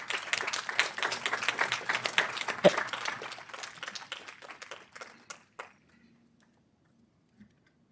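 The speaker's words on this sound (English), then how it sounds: "May we all just give a round of applause for her service." Audience applause at a housing authority board of commissioners meeting, a dense burst of clapping that thins out over several seconds and ends in a few scattered claps, then quiet.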